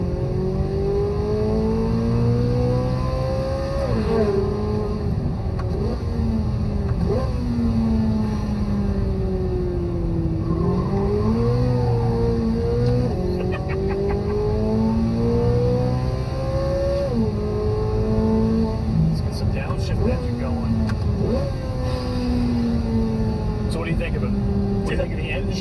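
A Chevrolet Corvette Z06 3LZ engine revs repeatedly while driving, its pitch climbing and dropping through several cycles of acceleration and shifts over a steady drone, with a voice talking over it at times.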